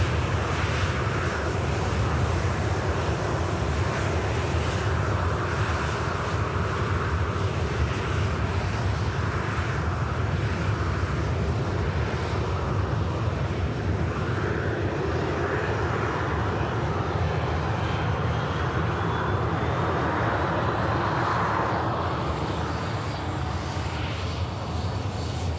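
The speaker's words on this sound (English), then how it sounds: "Landing by the EasyJet, coming in from Amsterdam, an Airbus A320." An EasyJet Airbus A320 landing at Manchester Airport from Amsterdam, giving a steady loud roar of jet engines that holds throughout and drifts slightly in pitch, with no talk over it.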